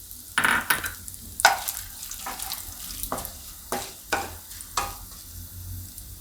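Red chillies and bay leaves are dropped into hot oil in a frying pan, giving a close sizzle with repeated sharp stirring scrapes and clinks at uneven intervals.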